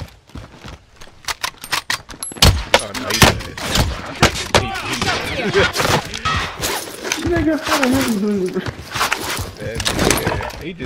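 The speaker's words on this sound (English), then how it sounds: "Look how fast the gun is shooting. You got rapid fire." Rapid-fire shooting in a multiplayer shooter game, a dense string of sharp repeated shots over about ten seconds with game effects layered in, and a voice talking over parts of it.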